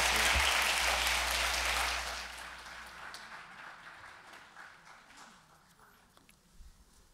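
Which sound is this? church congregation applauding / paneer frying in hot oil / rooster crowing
church congregation applauding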